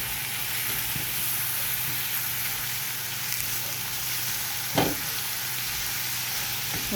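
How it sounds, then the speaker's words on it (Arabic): Chopped onions sizzle steadily in a hot pan for a béchamel pasta dish, with one short scrape of stirring partway through the even frying hiss. "نزلنا بالبصل ونقعد نقلب فيه كده شويه"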